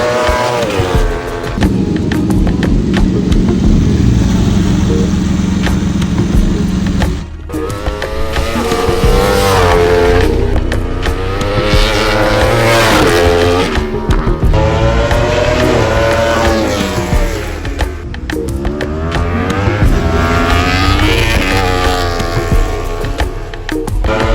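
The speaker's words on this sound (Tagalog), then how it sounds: "we are here to test and perform with the APX2 bike" An Aprilia Racing APX2 motorcycle lapping a track during a test session, its engine loud and close, revving and shifting in long rising and falling sweeps, with no talk.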